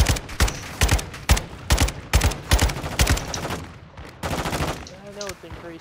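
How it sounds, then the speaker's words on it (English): Gunshots in Call of Duty DMZ: repeated bursts of rapid automatic fire with sharp single cracks and a steady rhythm. Someone speaks near the end. "Where are those shots coming from?"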